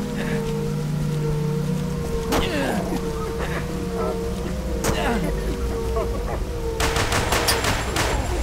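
Gunfire in the horror video game Siren 2, a few sharp shots spaced apart and then a rapid burst near the end, over an ongoing ambient drone with someone talking in between.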